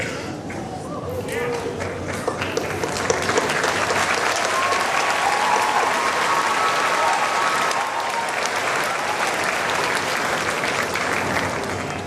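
Sustained applause from a large audience at a 2014 Ponca City Senior High graduation ceremony, a dense, steady wash of clapping that carries at an even level for the full twelve seconds with no pauses.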